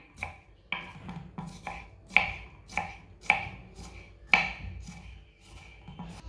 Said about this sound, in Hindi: इसी तरह दोनों खीरों को बारीक बारीक काट लेना।